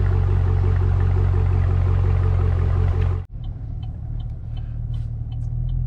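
A Chevrolet Camaro SS fitted with an Airaid intake tube driving out of a neighborhood, heard as a loud, steady low engine drone from inside the car that cuts off abruptly partway, leaving a quieter road rumble with faint rattles.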